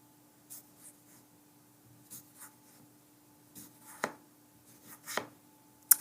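A knife cuts through potatoes for Hasselback potatoes, slicing thin fans against a guide. Soft, scattered cuts and scrapes come up close and quiet, spaced irregularly, with a few sharper taps near the end.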